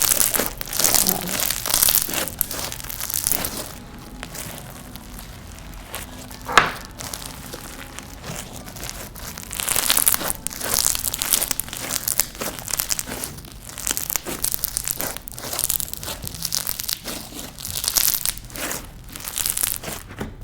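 Bingsu-style slime squished and worked by hand, giving close, continuous crinkly crackles and squelchy pops in uneven bursts, with one sharp snap partway through and no talking.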